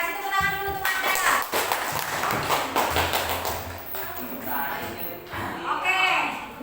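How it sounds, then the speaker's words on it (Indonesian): Classroom applause for a student: a group claps in a dense, lively burst lasting several seconds, with voices talking over it. "kasih tepuk tangan dulu untuk Nanda"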